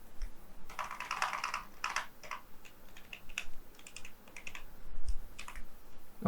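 Fingers typing PHP code on a computer keyboard, giving quick irregular bursts of clicky keystrokes with brief pauses between them, close and moderately quiet, with no talking.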